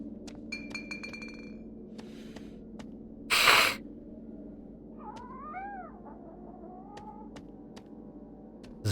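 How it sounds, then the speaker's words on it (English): A cat meows in the adventure puzzle game Nemezis Mysterious Journey 3, a single drawn-out wavering meow midway, faint over a low ambient hum with scattered glassy clinks and a sharp burst of noise just before. "I just heard a cat."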